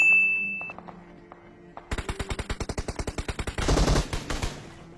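Automatic SKS rifle fire in a video game: a rapid burst of about fifteen sharp, evenly spaced shots, loud and close, followed by a louder blast and a clattering tail, with a few faint clicks before it.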